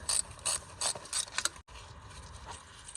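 A hand ratchet clicks in quick bursts while loosening an alternator bolt on a 2013 Dodge Journey, close and fairly quiet, with a brief pause before more ratcheting.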